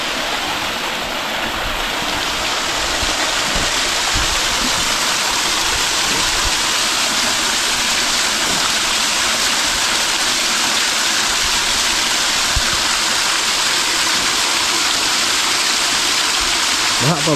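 Water from a mountain stream rushing steadily nearby, a dense continuous hiss and gurgle that stays loud and even throughout with no pauses.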